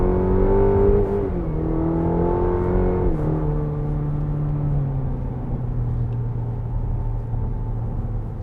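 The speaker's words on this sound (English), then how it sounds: "You can hear that downshift," A 2021 Cadillac CT4 sedan in sport mode blips its engine through a rev-matching downshift on wet roads: a sharp rise in revs, then a smooth, droning engine note that settles lower, heard from inside the car with no talking.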